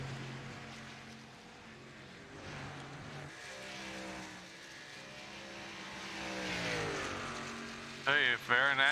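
ARCA Series race cars running at Kentucky, engines droning and shifting pitch as the field circulates, with a commentator talking over the noise and a sharp engine rise near the end.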